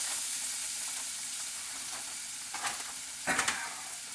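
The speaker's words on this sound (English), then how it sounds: "you're going to take the shrimp, frozen. Dump it directly into the pan." Frozen shrimp dumped straight into a hot frying pan sizzle with a constant bright hiss, broken near the end by a few louder stirring scrapes and spatters close by.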